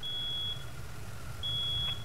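A fire alarm beeps in a firefighting video game, two long steady high tones with a gap between them over a low rumbling engine-like hum, moderately loud.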